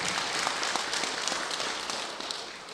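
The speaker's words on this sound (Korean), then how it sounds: "다시 한번 찬탄의 박수 부탁드리겠습니다" Congregation applause at a Buddhist temple service, a dense steady wash of clapping at moderate volume that slowly fades toward the end.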